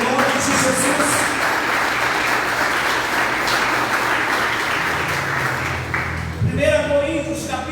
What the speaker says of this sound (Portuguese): Aplaude e exalte o nome de Jesus.